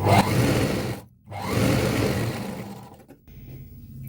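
A domestic sewing machine runs a quarter-inch line of stitching along the top edge of a small girl's petticoat, a steady close whirring that stops for a moment and starts again, fading near the end.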